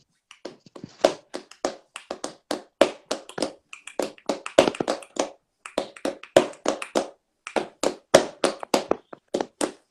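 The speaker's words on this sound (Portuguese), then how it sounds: "Eu tocaria dessa forma a palma," Flamenco palmas handclapping in bulería rhythm, crisp sharp claps in quick accented patterns with short pauses between phrases, close and dry with no talking.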